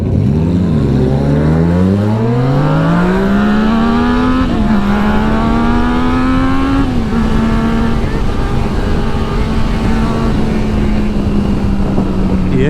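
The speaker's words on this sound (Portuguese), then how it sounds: "O cara já tá acelerando com a Tiger ali." A Triumph Tiger motorcycle revs loudly at a red traffic light, its engine climbing steadily in pitch and holding a sustained high drone with brief throttle blips, heard close by over constant road and wind noise.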